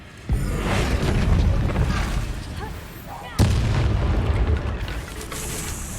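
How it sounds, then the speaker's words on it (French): In Hogwarts Legacy, an enemy transformed into a red barrel explodes, two loud booming blasts about three seconds apart, each followed by a long rumbling decay, with game noise around them. "faire exploser un ennemi en transformant en tonneau rouge"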